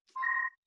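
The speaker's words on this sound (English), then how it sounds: "my phone's ringing." A mobile phone gives a single short electronic ring tone, close by and clear, sounding alone against silence.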